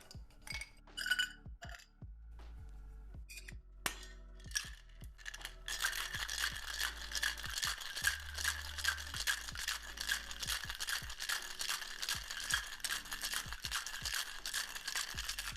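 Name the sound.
ice in a cocktail shaker, shaking a cocktail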